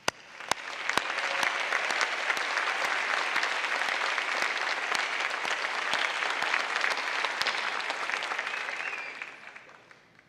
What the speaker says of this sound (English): let us show our enthusiasm for the graduating class of 2016 by way of a big